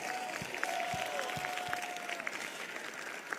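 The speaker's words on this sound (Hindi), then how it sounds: "ताली तो ऐसे ही बजेगी।" An audience claps at a religious prophecy gathering, a thin scattered patter of hands spread across a roomy hall with a faint steady tone running beneath it.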